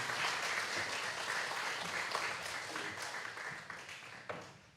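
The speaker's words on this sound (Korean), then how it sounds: "우리 할렐루야 성가대 다시 한번 박수 한번 해주세요." Sustained applause from a church congregation for its choir, steady and fairly loud throughout, with dense overlapping claps and no speech.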